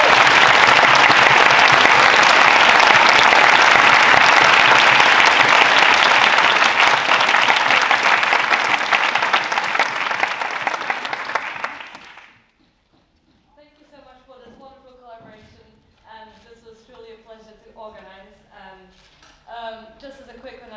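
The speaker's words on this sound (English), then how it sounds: "a quick round of applause for SUMS" A debating-society audience gives a loud burst of applause and clapping that fades out after about twelve seconds, then a single voice begins talking alone.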